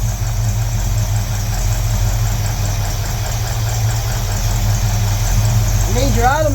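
Car engine fitted with an Edelbrock carburetor idles loudly and steadily up close, the idle roughening and stumbling as the mixture screw is turned in, with a brief whine near the end.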